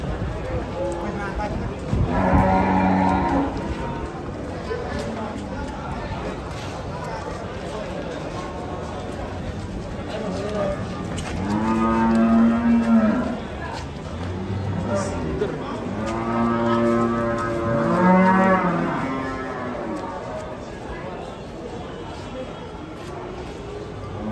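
A cow being unloaded from a truck lets out several loud, drawn-out moos, while people talk nearby throughout.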